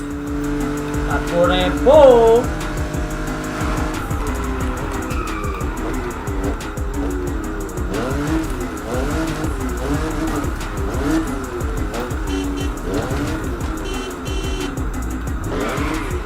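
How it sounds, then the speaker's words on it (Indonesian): Drag racing cars in the video game The Crew Motorfest, engines revving and rising through gears with tire squeal, loud and close throughout, while a voice speaks over the action. "Indeed, drag racing."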